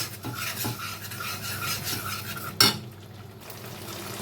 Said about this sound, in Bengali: আমি এক দুই সেকেন্ড একটু শস্য পোস্ত বাটাটাকে একটু কষিয়ে নিয়েছি